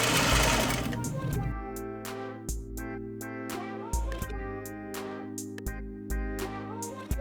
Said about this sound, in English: Sew around all 4 edges of your pocket facing piece.